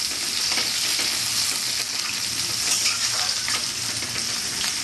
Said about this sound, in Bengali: আদা রসুন বাটা একটু দেবো কালিয়াতে